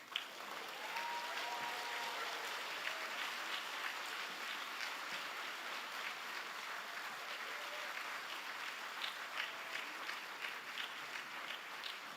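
Audience at a law school commencement applauding graduates, a steady wash of clapping from a large hall, even and sustained, heard at a moderate distance.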